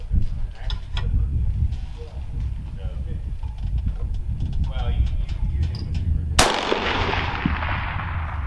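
A Finnish Mosin M28/30 rifle fires a single sharp, loud shot at a 600-yard range, its report decaying into a long echo after a stretch of quiet outdoor ambience and faint speech.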